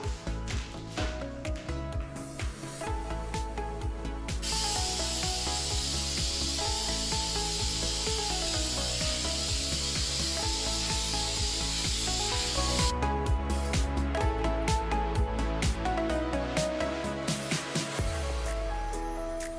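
Bumper inserts get a first coat of spray paint, a continuous close hiss of the can running for several seconds amid surrounding clatter and rustling, with no talking.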